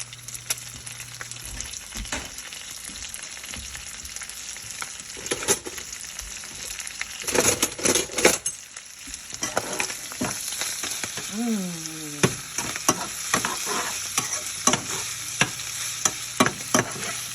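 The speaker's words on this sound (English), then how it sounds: "A little bit of kale never hurt nobody, right? To be sauteed." Kale sautéing in a pot for Zuppa Toscana, a constant close sizzle broken by clattering spoon stirs and scrapes, with a louder crackling surge midway and a brief tonal squeak; no voices.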